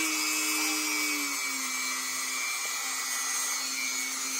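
Dremel 4300 rotary tool sanding at low speed, giving a steady, close, high-pitched whine with a slight dip in pitch partway through, heard alone without speech.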